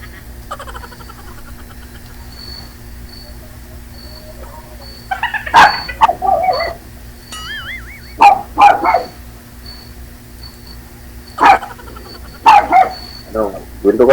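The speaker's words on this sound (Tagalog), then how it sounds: "Maingay yung aso nyo." A neighbour's dog barks in bursts of sharp barks and yips at moderate distance, with a low steady hum underneath and people talking at times.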